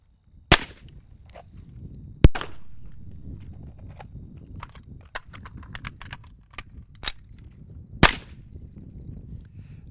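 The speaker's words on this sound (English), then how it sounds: "transition to the pistol for one shot. Then you're gonna bring the rifle back up, reload it, and fire one more shot" Rifle and pistol shots ring out in a timed shooting drill at 7 meters. Three or four sharp, loud cracks are spread over ten seconds, with quieter clicks and shuffling of handling and reloading between them.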